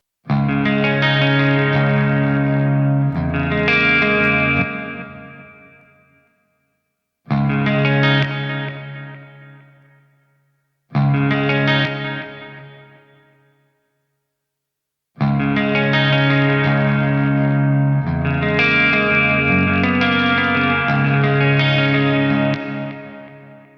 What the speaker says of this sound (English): let's try the delay as well